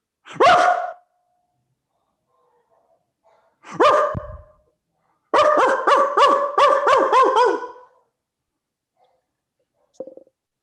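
A performer on a comedy stage imitates a barking dog, giving a single yelp, then another, then a rapid run of about eight loud harmonic barks, alone without talk.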